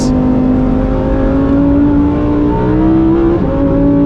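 A 2023 Lamborghini Huracan Tecnica V10 engine revving loud and close, a sustained strong tone whose pitch climbs and shifts as the revs rise, running continuously with no talking.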